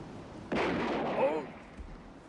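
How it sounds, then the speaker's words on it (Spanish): A single gunshot in a 1980 film scene: one sharp, loud report followed by a roughly second-long echoing rumble that fades away. "¡Has disparado a Grossman!"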